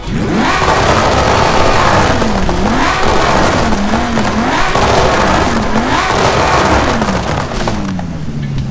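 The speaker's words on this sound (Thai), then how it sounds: "ใส่เทอร์โบ เข้าไปแล้วนะครับ ก็ใส่ แอนติแลกเข้าไปนะครับ ฟังเสียงกันหน่อย" Twin-turbo Lamborghini Huracán Super Trofeo Evo fitted with anti-lag in Forza Horizon 5 revs hard and loud in repeated rising and falling sweeps, its engine note climbing and dropping several times without pause.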